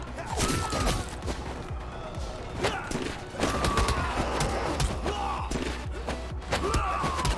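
Rapid bursts of gunfire in the game Midnight Fight Express crackle and thump over a dense, busy mix of action sound effects and music, continuous and loud throughout.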